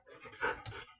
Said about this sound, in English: The dog is here for a short bit